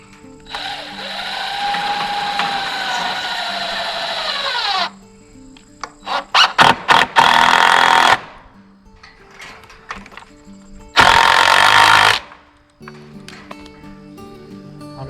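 A power drill drives screws into a wooden fence gate, with a long whine, then several short bursts and two more sustained runs, loud and close, separated by quieter pauses.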